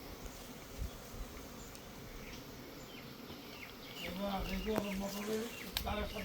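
Small honeybees buzz steadily at close range during honey collection from a hive hidden in a motor room, a faint insect drone that grows somewhat louder partway through, with scattered background noises.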